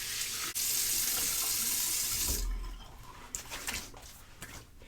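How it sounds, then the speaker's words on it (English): Cold water runs hard from a tap for a face rinse after a shave, a steady bright gush that stops abruptly halfway, followed by faint splashes and drips, with a dog whimpering softly nearby. "A cold water rinse to the face."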